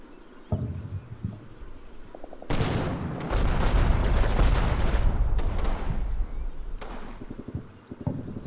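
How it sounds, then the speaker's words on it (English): Howitzer shells bursting in Combat Mission: Final Blitzkrieg, a few sharp cracks, then a heavy, rumbling barrage of explosions that swells and rolls on for several seconds before fading to scattered blasts. "you'll see like 3 howitzer rounds just about to strike"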